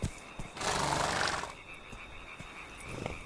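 Roach the horse in The Witcher 3 gives a loud, close whinny lasting about a second, followed by softer snorts and faint hoof sounds.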